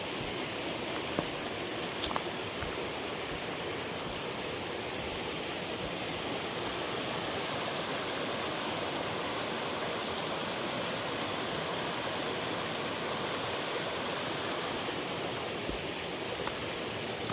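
A creek flowing beside a forest hiking trail on the way to a waterfall in spring, a steady broadband rush of water that stays even throughout, with no voices.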